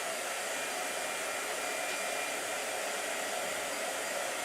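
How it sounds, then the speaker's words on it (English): A blow dryer runs steadily throughout, a loud, continuous airy whir with no break or change in pitch and no voices over it. "You and the blow dryer."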